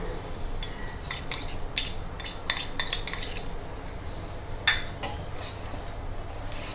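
A spoon clinks and scrapes against a metal pot while salt and curd are mixed into a soya paneer veg biryani mixture, with irregular bright taps at close range and a quiet background between strokes.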